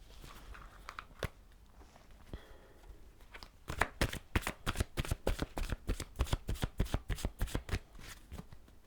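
Oracle cards shuffled by hand close up, starting with a few scattered flicks and then a fast run of crisp riffling slaps that keep a steady rhythm to the end.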